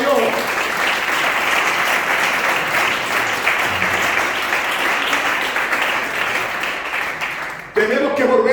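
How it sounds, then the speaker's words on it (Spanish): A church congregation claps loudly and continuously for several seconds, a dense close wash of applause that cuts off abruptly near the end as a voice resumes. "Den un aplauso fuerte a nuestro Dios."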